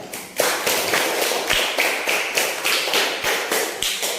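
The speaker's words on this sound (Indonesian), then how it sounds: "terima kasih tepuk tangan untuk Amel" Classmates in a primary school classroom clap for a pupil who has just written a number on the board, a steady burst of brisk, close handclaps lasting several seconds.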